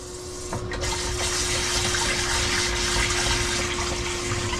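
Water trickles steadily from a kayak livewell pump turned down low, a continuous close running-water hiss with no talking.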